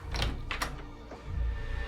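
A door shuts with a couple of soft thuds and clunks close by, followed by a low rumble and a faint knock, and no voices are heard.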